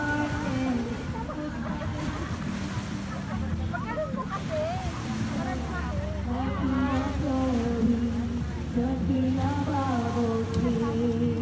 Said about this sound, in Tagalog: the wave is angry